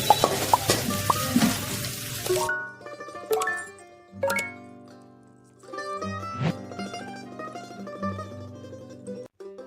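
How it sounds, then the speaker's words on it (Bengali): Onion and green chili frying in hot oil, a brief burst of dense crackling sizzle with clattery stirring at the start, after which tonal music takes over and the frying drops away. "এবার পেঁয়াজ আর কাঁচামরিচ দিয়ে দিচ্ছি এবং হালকা করে একটু ভেজে নেব।"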